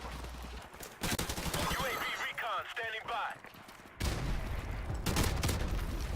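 An AK-74U rifle firing in Call of Duty Modern Warfare Remastered: two stretches of rapid automatic bursts with a short gap between them, with a voice talking over the shooting.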